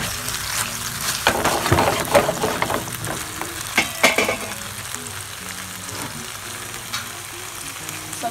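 Noodles frying in coconut oil with teriyaki sauce, a loud close sizzle with bursts of crackling and spattering as the food is stirred and tossed, settling into a steady hiss.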